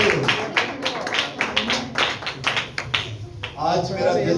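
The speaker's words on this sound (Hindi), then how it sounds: "एक साथ में जाएंगे 1 2 3 जोरदार ताली बजाएंगे" A congregation at a worship service claps loudly together in a dense, rapid run of claps, with voices rising near the end.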